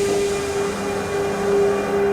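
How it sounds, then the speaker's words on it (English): Red steam engine inching slowly across a creaking bridge, a steady rumbling drone with a sustained tonal hum that flickers on and off, moderately loud throughout with no speech. "The red engine inched slowly across."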